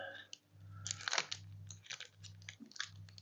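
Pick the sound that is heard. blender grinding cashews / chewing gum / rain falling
chewing gum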